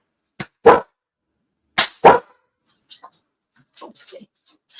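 Pet dog indoors giving a few sharp, separate barks in two pairs, followed by fainter scattered yips and quieter sounds.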